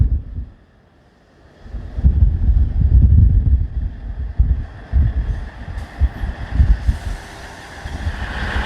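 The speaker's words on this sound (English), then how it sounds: "pretty soon the first train to Newcastle is going to pull in" A train pulling into a station on the Northumberland Line rumbles in with low, heavy rolling noise that swells and fluctuates, buffeted by gusts of wind across the microphone, with a faint high squeal later.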